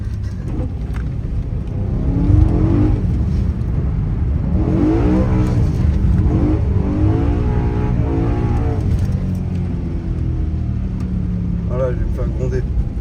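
A BMW M3 E93 drifting: the engine drones and revs steadily for the whole stretch while people talk inside the car over it.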